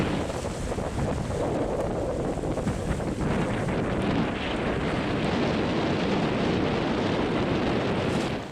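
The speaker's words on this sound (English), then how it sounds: "it's so windy. I think that the audio will get really bad" Heavy, continuous, freezing-cold wind buffeting the microphone, a loud roaring rumble that never lets up.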